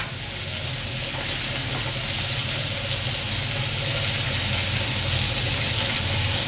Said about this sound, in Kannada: ಇದನ್ನು ಸೇಮ್ ಮಸಾಲೆನೇ ಅದು ಇತ್ತಲ್ಲ ಅದನ್ನೇ ಈ ಥರ ತವಾನಲ್ಲಿ ಹಾಕ್ಬಿಟ್ಟು ಫ್ರೈ ಮಾಡ್ಕೊಳ್ಳೋದು